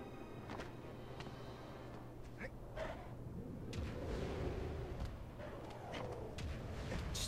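The colossus Argus in Shadow of the Colossus makes a stomp attack, with heavy low thuds and rumbling under game noise and faint talk.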